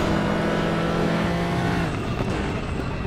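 Simulated GTR3 race car at Road America in RaceRoom, engine note dropping under braking then rising again as it gets back on the power, loud and continuous throughout with no voices.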